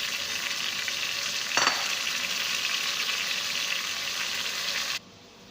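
Chopped potato, cauliflower and carrot for a chicken curry sizzle steadily in a hot pan, a loud continuous frying hiss with a brief stirring scrape, then cutting off abruptly near the end.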